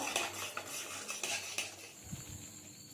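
Cashew paste and yogurt being stirred into spices in a pan, repeated close metal spoon scrapes and clinks against the pot in a quick rhythm, then a few softer knocks, no talk.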